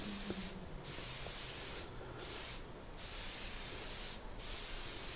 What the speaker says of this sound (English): I'm just putting a few good thick layers of clear nitrocellulose lacquer over them